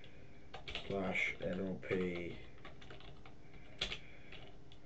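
Keys clatter on a computer keyboard while a forum name is entered during a vBulletin setup, light irregular tapping running under a man's speech, with a brief louder burst of keystrokes near the end.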